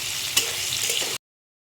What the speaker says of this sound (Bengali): আমি আলুটা ভালো করে ভেজে নেব, একটু ঢাকা দিয়ে দিয়ে